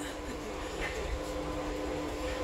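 A metro train runs with a steady low rumble and hum inside the carriage, continuous and fairly loud throughout, with no talk.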